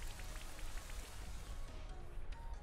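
Steady rain pattering from the Rain Dance move in a Pokemon VGC Series 11 battle, a continuous hiss of falling drops filling the whole clip at moderate loudness with no talk over it.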